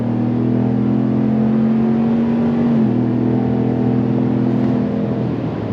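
A 2025 GMC Sierra 1500 Denali Ultimate full-size pickup with a 10-speed transmission pulls away from a stop in two-wheel drive, its engine droning loud and steady from inside the cab, with a slight shift in tone partway through.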